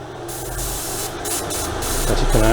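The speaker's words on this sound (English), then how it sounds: "Switch the compressor on." An airbrush sprays etching primer onto a model while the compressor runs, a steady close hiss with a low hum beneath it.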